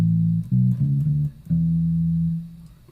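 Soft, quiet sustained notes at a pianissimo-to-piano dynamic, a few short tones followed by one longer held note, played alone with no talking.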